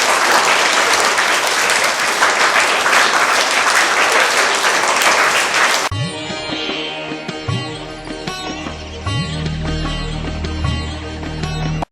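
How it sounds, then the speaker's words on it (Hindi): Loud, sustained applause from a school audience for a talent hunt winner, a dense roar of clapping that stops abruptly halfway through, followed by music. "जोरदार तालियाँ"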